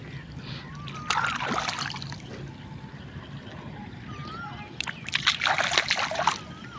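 Water splashing and sloshing at a farm field irrigation channel as feet are washed, in two bursts separated by a quieter stretch, close up over outdoor background noise.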